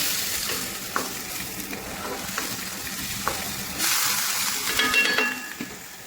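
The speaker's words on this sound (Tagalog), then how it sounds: "ilalagay na po natin yung matigas na gulay ng ating kalabasa para mag-isa ng maayos." Hard squash (kalabasa) sautés with mixed vegetables in a pan, giving a steady close sizzle with occasional utensil clinks and stirring, and the frying hiss briefly grows louder partway through.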